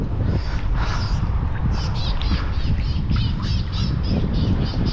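Birds call and ducks quack by the seashore during shore fishing for crabs, a rapid run of repeated nasal calls over loud, constant wind and background noise.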